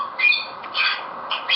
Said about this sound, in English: He is a bird.